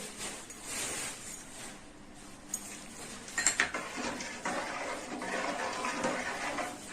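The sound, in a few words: pouring water into cooking pot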